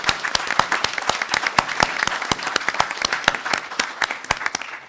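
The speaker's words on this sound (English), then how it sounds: "So can we give Melissa a round of applause?" An audience at a literary panel event gives a round of applause: crisp, distinct claps from a modest crowd, steady and close for about five seconds, with no speech over it.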